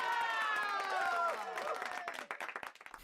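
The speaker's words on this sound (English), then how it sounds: "a nice round of applause for" A live studio audience in Honolulu claps for a performer, dense at first and thinning into scattered claps, under a sung, cheering voice at the start.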